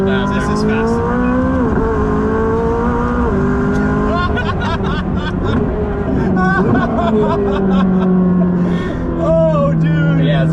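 An 800 WHP Mitsubishi Evo 8 accelerates hard, with a loud, close engine rising in pitch through the gears and brief dips at shifts, while people talk excitedly over it.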